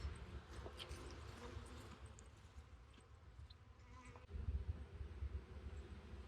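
Honeybees from a newly installed package buzz around a hive, a steady close droning hum of many insects that grows slightly denser toward the end.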